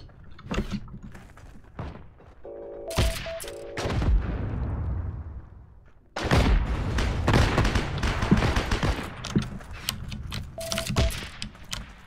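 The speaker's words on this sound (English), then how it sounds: "something keeps shooting at me" Video game gunfire aimed at the player, coming as loud booming shots and bursts, one burst early, a pause, then heavy sustained firing, with a short mechanical whir between the shots.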